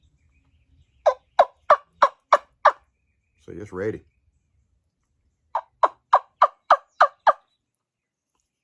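A homemade wild turkey wing bone call blown in two bursts of six sharp, evenly spaced yelps, separated by a short low rasp, loud and close, with a few words spoken in between.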